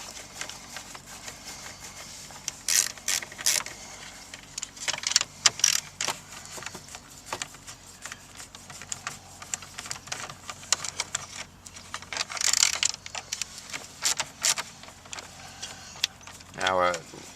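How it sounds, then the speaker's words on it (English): Screws come out of a Ford Mustang dash panel, with intermittent clicks and ratcheting taps from a hand tool at close range while a person talks throughout. "we're going to move over and remove the 3 screws up the left side as well"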